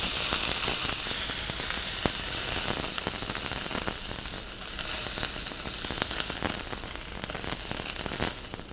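Beef sears in a hot pan for curry rice, giving a steady, loud hiss and crackle of sizzling meat with small pops scattered throughout and no talking.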